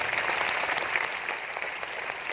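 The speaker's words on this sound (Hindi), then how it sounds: "तेज बजाओ ताली, धीरे बजाने से नहीं चलेगा" A crowd at a Bhilwara RCM World business meeting claps loudly and continuously, with some sharper individual claps standing out in the dense, even wash.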